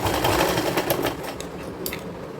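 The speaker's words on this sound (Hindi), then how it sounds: "इसको इस तरह से पलटा के ऊपर से प्रेस सिलाई मार देंगे" Close, loud sewing machine top-stitching a girls' cord set, a steady motor whir with a few faint clicks over it, running without a break and without speech.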